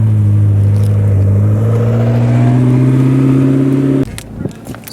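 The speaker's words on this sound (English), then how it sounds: "we were launch controlling the Mclaren" A McLaren sports car launching under launch control, a loud, close engine roar that climbs steadily in pitch for about four seconds, then cuts off abruptly into crackles and rushing noise.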